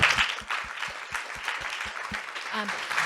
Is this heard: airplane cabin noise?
no